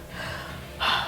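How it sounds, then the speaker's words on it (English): A man gasping for breath between sets of bent-over rows during a gym workout, a close, breathy inhale that swells into a sharper gasp near the end. "gasping a little bit, and I'm not even moving quickly"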